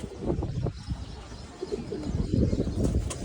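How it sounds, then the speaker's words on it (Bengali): Several female tournament pigeons in a loft cooing nearby in soft, repeated throaty calls, overlapping, with light rustling between. "আমাদের আরেকটা মাদি কবুতর অনেক পুরনো"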